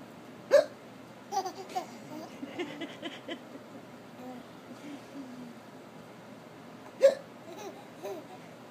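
Laughing hiccups from a child: two sharp, loud hiccups several seconds apart, with giggly laughter and babbling between them, close to the listener.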